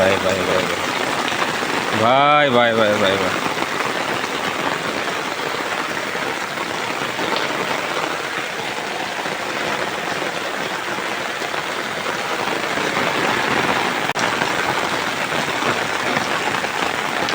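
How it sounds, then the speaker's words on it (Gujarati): Heavy rain pours down in a dense, steady hiss throughout, with a single short voice near the beginning. "ફૂલ વરસાદ ચાલુ છે."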